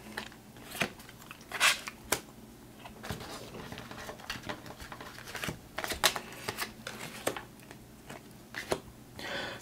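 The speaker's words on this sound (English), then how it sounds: "I'll just flip these cards first." Tarot-style cards being flipped and handled, a string of soft close slaps, flicks and papery shuffles at an irregular rhythm over a quiet background.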